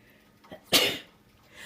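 A single sharp sneeze bursts out loudly and close by in a kitchen where sloppy joes are being mixed, with a short in-breath just before it and quiet room tone afterward.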